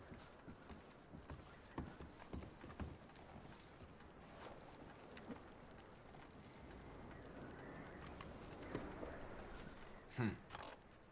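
Faint horse hooves clopping intermittently in the video game Red Dead Redemption 2, amid quiet background sounds, with a few sharper knocks and no talking.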